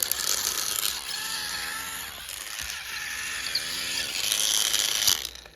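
A TrackMaster toy train's battery-powered motor and gears whir and rattle close by, a steady mechanical grinding that swells and fades slightly before cutting off.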